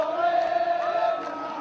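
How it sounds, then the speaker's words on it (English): Protesters celebrating at Pearl roundabout, a crowd roaring and cheering with sustained shouting voices blended into a loud, continuous mass of sound. "the crowd began celebrating"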